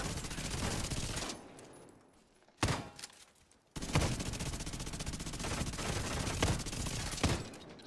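Automatic gunfire in The Division 2, dense rapid bursts that fill most of the stretch, loud and close, with a brief lull broken by a single sharp shot before the firing resumes.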